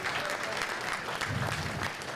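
Applause from a conference audience fills the room, a thick, continuous patter of many hands clapping at steady volume, with a low voice murmuring partway through.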